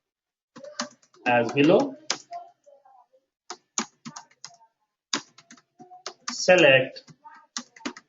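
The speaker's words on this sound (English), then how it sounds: "And type the query" Scattered keystrokes on a computer keyboard as a database query is typed, crisp isolated clicks with gaps between them, while someone speaks briefly twice over the typing.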